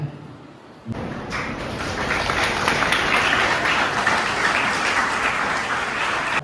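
Loud, sustained applause from a crowd at a village tree-planting gathering for an old-age home, bursting in after a brief quiet moment and continuing evenly and densely throughout.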